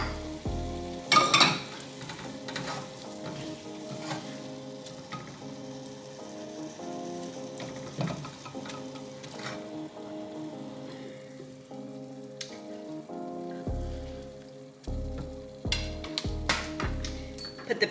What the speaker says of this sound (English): It is time for me to cook my tortillas.